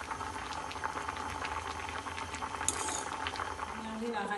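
Cassava root boiling in salted water, a steady bubbling and roiling simmer that fills the clip at close range, with a faint metallic clink near the middle and some stirring toward the end.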